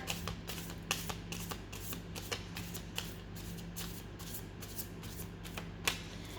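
A tarot deck shuffled steadily by hand, a quick run of soft crisp card flicks repeating over a low constant hum, close up and quiet with no voice.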